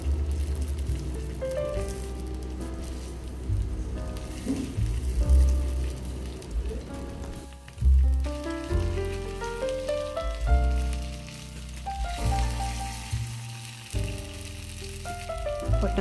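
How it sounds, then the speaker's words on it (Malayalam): Potatoes fry in hot oil over a medium flame, giving a steady, dense sizzle and crackle that runs throughout with some stirring and shifting of the pan, and no talking. "ഒരു മീഡിയം ഫ്ലെയിമിലിട്ടിട്ടാണ് നമ്മളിത് പൊരിച്ചെടുക്കേണ്ടത്"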